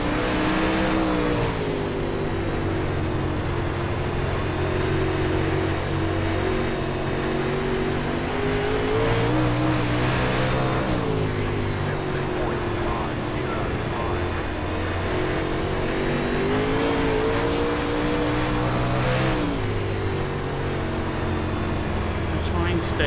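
An UMP Modified race car engine at Eldora in iRacing holds a loud, steady droning roar with periodic lifts and surges in pitch through corners, constant throughout.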